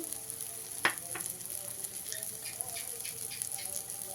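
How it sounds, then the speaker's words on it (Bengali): Spice paste with salt and turmeric frying in a pan for a fish curry, a soft close sizzle with fine crackles and a single sharp clink of a spoon, quiet and steady, no talking. "এক চামচ হলুদের গুঁড়ো দিয়ে মশলাটাকে ভালো করে ভেজে নেবো"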